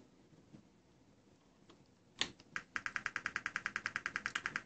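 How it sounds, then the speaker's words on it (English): A few scattered clicks, then a rapid, steady train of sharp electronic clicks from a small speaker, evenly spaced and fairly loud. "you can hear that we're generating a clicking sound by the onboard speaker"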